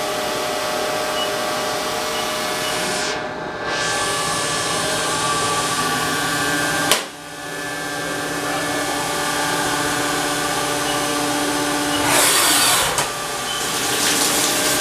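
A 2018 Haas VF4SS CNC mill runs steadily with its through-spindle coolant, a continuous loud machine whir and hiss with a brief dip and click midway and a surge of spray noise near the end.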